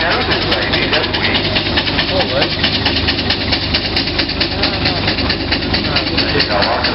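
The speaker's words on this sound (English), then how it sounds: "There you go, after that engine working very hard now." A pulling tractor's engine labours hard while dragging a weight box at a vintage show, giving a loud, continuous roaring drone with a rough, grinding texture throughout.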